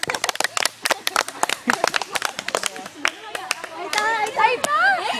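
Children clap their hands in short, uneven bursts of sharp claps, close by, mixed with excited kids' voices and chatter that grow louder toward the end.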